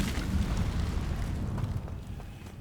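A Hogwarts Legacy Incendio fire spell bursts out as a loud, dense roaring whoosh of flame that swells and holds steady before easing off slightly, alone with no talk.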